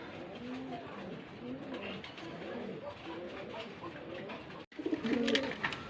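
A red homer pigeon coos in repeated soft, rolling phrases close by, with background noise throughout and a louder burst near the end.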